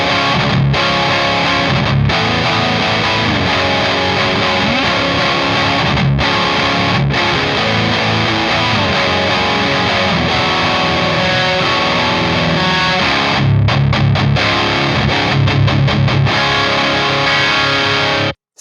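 A heavy, distorted electric guitar played through its bridge pickup rings out thick and sustained, with loud chugging riffs broken by a few brief stops and a palm-muted burst near the end.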